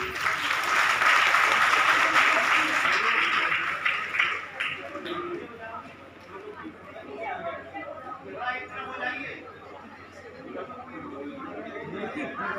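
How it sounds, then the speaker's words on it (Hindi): A crowd at a religious gathering gives a loud burst of applause for the speaker's seat, sustained clapping that fades after a few seconds into murmuring chatter and voices. "व्यासपीठ के लिए जोरदार तालियां।"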